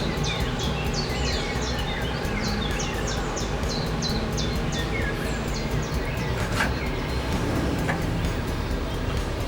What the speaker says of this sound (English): I can even hear the birds singing on this beautiful morning.